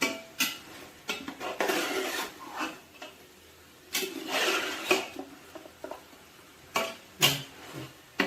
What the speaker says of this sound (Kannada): ಒಗ್ಗರಣೆಯಲ್ಲಿ ಚೆಂದ ಮಾಡಿ ಫ್ರೈ ಮಾಡ್ಕೊಳ್ಬೇಕು